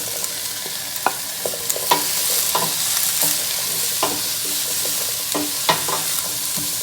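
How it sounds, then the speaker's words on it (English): Zucchini sizzles in a hot pan while being stirred for shakshuka: a steady bright frying hiss under a string of sharp utensil scrapes and taps, close and fairly loud. "Let's add our zucchini in."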